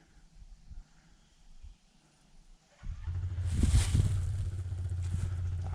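An old motorcycle engine on a night of about minus 20 sits silent, then abruptly catches and runs loud and rough at close range for the last few seconds.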